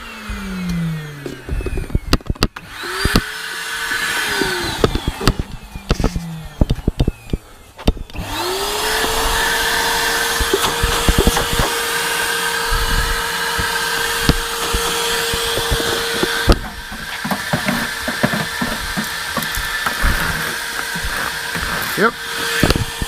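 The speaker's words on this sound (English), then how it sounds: "The suction is okay. It's not the most powerful vacuum cleaner in the world." A cheap vacuum cleaner whirs on after some clattering and handling noises, then drones steadily at close range with a high whine while someone talks over it.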